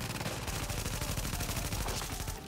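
Rapid automatic turret fire in the video game The Division, a dense continuous burst of gunshots rattling loudly for a couple of seconds with no voice over it.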